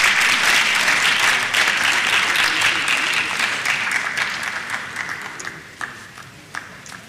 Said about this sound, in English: Please let's encourage them and give them a round of applause as they come.